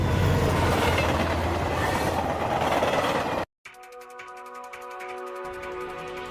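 A runaway train with a malfunctioning control valve roars loudly and steadily for a few seconds. The noise cuts out abruptly, then gives way to quieter clattering rail sounds with faint high whines.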